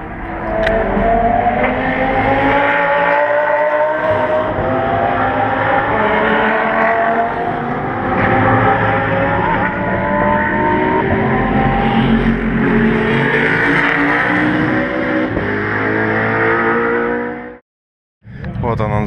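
Rally cars on a stage roar past close by, a loud sustained engine note with rising pitch sweeps as they accelerate, cutting off abruptly near the end.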